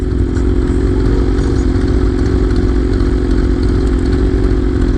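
A Harley-Davidson CVO motorcycle engine runs close by, a loud steady low rumble with a continuous throb and no talking over it.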